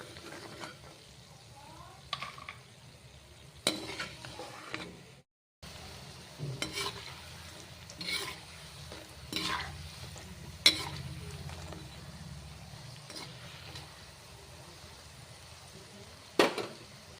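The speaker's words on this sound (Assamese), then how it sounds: "মই গোটেইখিনি ভাজি ল'ম আৰু দেখুৱাই নাথাকোঁ এনেকৈ লৰাই ৰঙচুৱা হ'লে নমাই থৈ দিম" Nimki strips made from maida dough, salt and refined oil fry in hot oil and get stirred. There is a quiet, steady sizzle close by, broken by occasional scrapes and clinks of the stirring utensil, with no talking.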